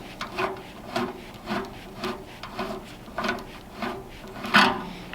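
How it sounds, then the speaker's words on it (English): A hand rivet nut tool being turned to thread out a rivet nut insert, giving a run of regular rubbing, ratcheting scrapes roughly once a second, close and fairly loud, with no voices. "you thread with this knob here, you thread the insert out"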